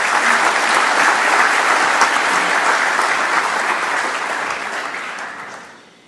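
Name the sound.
conference audience applause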